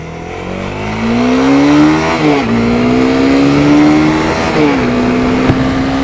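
A 2015 Honda CB300F motorcycle accelerates hard through its gears, the engine note climbing steadily, dipping at two quick upshifts, then rising again, loud and close with no talk.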